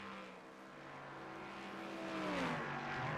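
Race cars lapping the Daytona road course in a racing video game, a sustained, loud engine drone whose pitch sweeps upward as the cars accelerate, with no pauses.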